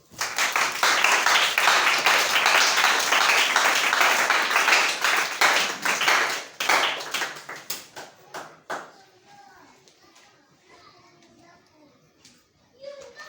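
Audience applause breaks out, dense and loud for about six seconds, then thins into scattered claps and fades to quiet, with children's voices mixed in.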